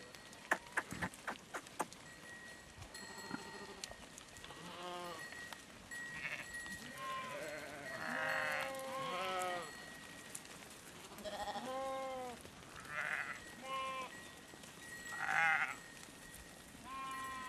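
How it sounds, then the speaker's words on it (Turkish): Sheep in a mountain pasture, a lone animal and others giving repeated wavering bleats at moderate distance, several calls spaced through the scene alongside faint rustling. "Koyun orada tek kaldı."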